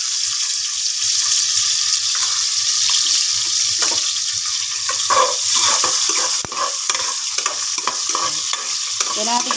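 Onion, garlic and ginger sauté in a pan with a steady, loud sizzle, and a spoon or spatula stirs and scrapes through it intermittently.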